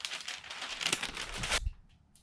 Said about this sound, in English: We're going to go ahead and pull off our butcher paper